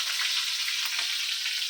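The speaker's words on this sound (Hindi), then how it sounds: "उसके बाद हम डालेंगे बारीक कटा हुआ अदरक और हरी मिर्च को डाल देंगे" Finely chopped ginger and green chilies, added after asafoetida, sizzle in hot oil in a home kitchen pan, giving a steady, close hiss that lasts the whole moment with no voices.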